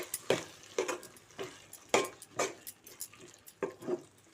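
Masala curry is stirred in a pan with a utensil, scraping and clinking against the metal in irregular strokes, near and fairly quiet, alone without talk.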